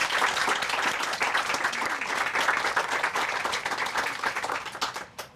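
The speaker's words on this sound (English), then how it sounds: "If we could give them a round of applause." An outdoor audience applauds at the opening ceremony of Hanlon's Grove park: dense, continuous clapping from a crowd, steady and fairly close, that thins and fades out toward the end, with no talking over it.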